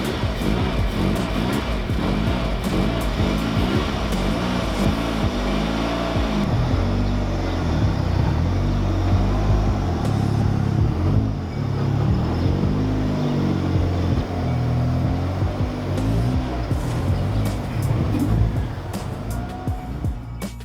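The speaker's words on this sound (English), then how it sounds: "what I'm going to try to do while I'm driving is be constantly accelerating or decelerating" A tuned Mazda Miata with a VVT engine drives along, its engine note rising and falling in a steady, loud drone of repeated acceleration and deceleration under road rumble.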